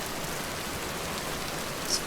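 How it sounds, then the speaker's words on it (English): Steady rain-like patter in the Vintage Story video game, a dense even hiss of drops with no pauses, close and constant throughout. "It sounds like it's raining, but I don't really think it is"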